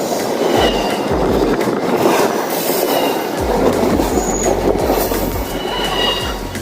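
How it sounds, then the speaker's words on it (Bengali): The Sealdah–Ajmer Superfast Express runs close by, with loud rolling rumble, squealing wheels and a rhythmic clickety-clack of wheels crossing rail joints repeating through the whole stretch. "শিয়ালদা থেকে যে ট্রেনটি রয়েছে শিয়ালদা আজমের সুপারফাস্ট এক্সপ্রেস, আমরা এই ট্রেনটাতেই জার্নি করব"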